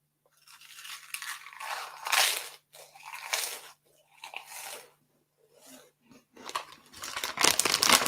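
Massive crisps being bitten and crunched, several loud crisp snaps and crackling bursts in irregular bursts with short pauses between them, close to the mic.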